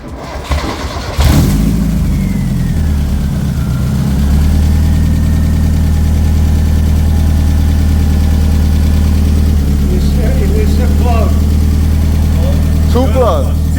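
A Mazda Miata engine cranks briefly and catches, then settles into a loud, steady idle that drones on close by for over ten seconds, with faint voices talking over it.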